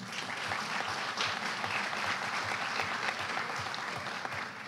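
Audience applause at an internet governance forum in Brazil, sustained even clapping from a sizable crowd, moderately distant and continuous throughout.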